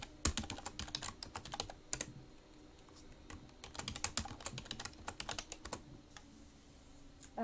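Rapid, uneven clatter of typing on a computer keyboard as a name and password are entered during PC setup, with bursts of keystrokes separated by short pauses, close and fairly quiet.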